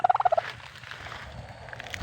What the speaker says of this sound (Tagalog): pabo po yan, naglilimlim. Nagagalit.